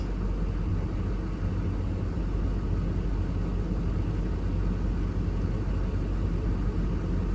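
A cab-over truck's engine idles steadily at about 65 to 70, a continuous low rumble that holds even and close throughout with no talk over it.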